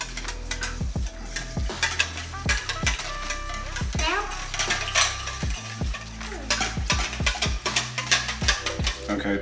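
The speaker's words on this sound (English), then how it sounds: "give it a couple more stirs for me" Rapid clinking of a utensil against a bowl while French toast custard with cinnamon is whisked and stirred, a busy repeated scraping rhythm under nearby voices and kitchen clatter.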